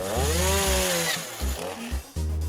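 A chainsaw sputters and revs in short bursts, its engine note rising and falling unevenly at close range with no voices.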